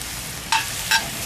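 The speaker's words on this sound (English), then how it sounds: "Sizzle, baby." Butter sizzles in a preheated cast iron pan over medium-high heat, a steady soft frying hiss with two brief louder bursts of crackle partway through, no voices.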